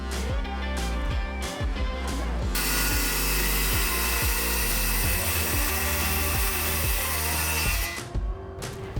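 A power saw whines loudly through a wooden board in one long continuous cut, preceded by a few short bursts.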